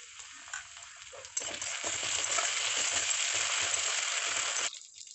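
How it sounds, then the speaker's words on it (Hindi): Golden-brown onions fry in a pan with garlic and ginger paste, giving a steady, moderately quiet sizzle that swells when the paste goes in, with light stirring scrapes and no talking. "अब इसमें 1 चम्मच लहसुन का पेस्ट और 1 चम्मच अदरक का पेस्ट डालकर इसे भूनें।"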